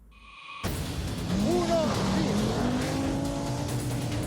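A turbocharged four-wheel-drive Audi Quattro rally car races past in a 1983 rally, its engine note rising and sweeping over a loud roar after a sudden start, with a voice speaking over it.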